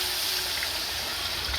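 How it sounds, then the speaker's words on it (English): Water pours into a pot of jerk pumpkin rice, a steady hissing, trickling rush lasting a moment and heard close and alone. "So I'm gonna add the water."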